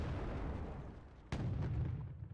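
A tank cannon shot in a combat video game, one sharp heavy blast cutting through a dull rumbling background, followed by a lingering low boom and rolling echo, with no talking.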